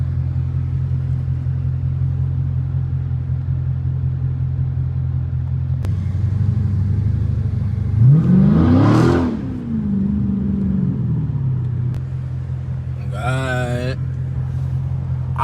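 Straight-piped Dodge Challenger Scat Pack muscle car idling with a deep, loud rumble, then a single sharp rev rising and falling back to idle midway, heard from inside the car while someone talks.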